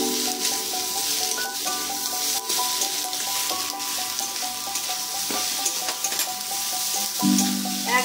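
Potatoes and poppy seeds fry together in a pan for aloo posto, a steady sizzle with occasional stirring scrapes running under a layer of tonal background music, with no one speaking.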